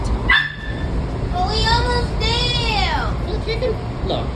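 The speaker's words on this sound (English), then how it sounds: "As we traveled on, Tank barked" A dog gives a yelping, whiny bark with rising and falling pitch, a few short calls over background vehicle rumble.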